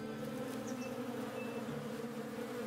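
Bees buzzing around hives in the video game Above Snakes, a steady, continuous droning hum that holds at an even level throughout with no talk.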